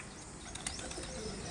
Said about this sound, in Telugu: మా మామయ్య పావురాలు.